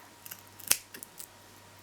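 A few quick, crisp scissor snips close by, cutting velcro into strips, one sharp cut standing out among lighter clicks in an otherwise quiet room.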